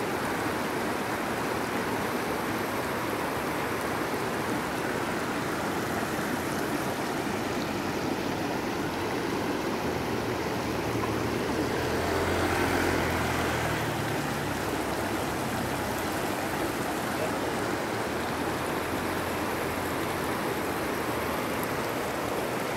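Mountain spring water rushes over large rocks in a steady, broadband roar, close and constant with a brief swell midway and no voices.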